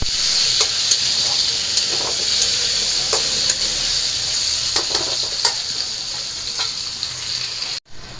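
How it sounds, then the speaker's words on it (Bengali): Potatoes with turmeric fry in a pan with a steady, close sizzle, broken by intermittent scraping stir strokes. "হালকা একটু হলুদ দিয়ে দিই আলুটা ভাজ করার জন্য আলুটা ভালো করে ভাজ"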